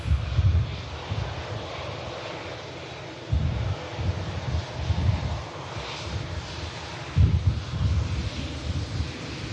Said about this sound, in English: Tap Air Portugal coming in from Lisbon. Embraer E190, and that'll be followed by a British Airways shuttle as well coming in. Currently on final approach.